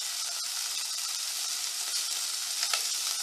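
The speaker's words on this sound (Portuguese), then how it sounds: "E agora a gente vai deixar esse bacon ele dourar" Bacon fries in its own rendered fat, giving a continuous, even hiss and crackle at moderate level with faint scattered pops and no voices.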